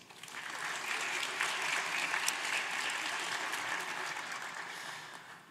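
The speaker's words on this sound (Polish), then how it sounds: "Podziękowanie i brawa dla Państwa." A crowd at a 2022 Polish student awards gala applauds warmly, the clapping swelling in over the first half second, holding steady, then tapering off at the close.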